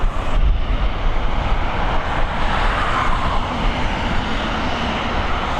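A fixed-wing airplane at Dublin Airport on runway 28L produces a loud, steady, broadband engine roar that fills the whole stretch, close and unbroken, with no voices.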